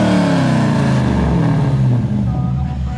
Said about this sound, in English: Rev it for the video! You gotta rev the car. My brother's sports car with a V8 swap.